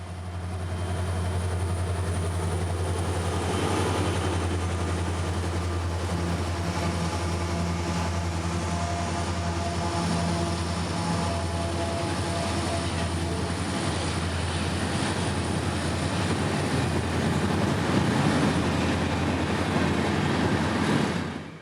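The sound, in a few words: slow 200-car mixed freight train 603 passing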